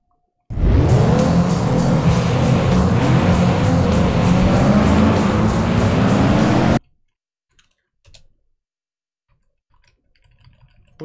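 Racing cars roaring in the video game FlatOut, a loud sustained engine drone with tyre noise that runs for about six seconds, then cuts off abruptly to near silence with a few faint clicks.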